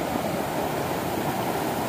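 River water flowing steadily past a village where tilapia and carp are raised, a continuous broadband rush with no breaks, moderately loud and close, with no voice over it.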